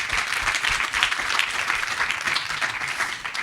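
Audience applause at a conference, a continuous, fairly even wash of many hands clapping at moderate distance, easing slightly toward the end.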